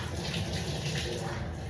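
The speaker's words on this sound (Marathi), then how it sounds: "बटाटे स्वच्छ धुवून घेऊयात पहिले." Tap water runs steadily as potatoes are washed for a Maharashtrian-style potato bhaji, a continuous close rushing splash with no talk.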